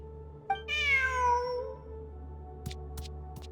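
In the video game Genshin Impact, a cat gives one drawn-out, rising-then-falling meow up close, followed by quiet with a few faint clicks against a low steady hum.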